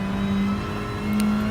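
A VW Scirocco Gr.4 race car in GT Sport accelerating on corner exit, a loud, steady engine drone climbing slightly in pitch, close and without talk.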